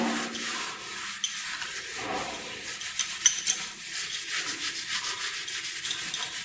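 A dish-washing scrubber rubs across bathroom tiles in steady, close scratchy strokes, faint but continuous with rhythmic swishing pulses and no speech.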